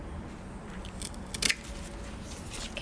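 Pruning shears snip through a Monstera albo borsigiana stem at a node, giving a brief, crisp cut with a small crunch, close and alone against a quiet room.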